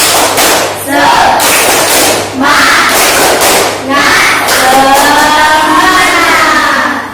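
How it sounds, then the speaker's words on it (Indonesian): A classroom group performing tepuk semangat, a rhythmic clapping cheer, with voices chanting together in several loud bursts and claps marking the beat, separated by short pauses. "Tepuk semangat"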